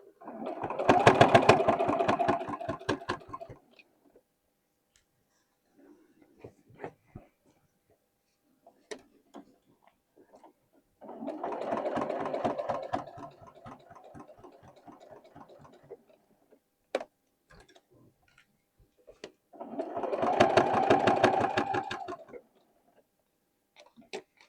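A sewing machine stitches overalls slowly in three separate bursts of rapid, close mechanical ticking, with quiet gaps holding faint clicks and handling noises between them.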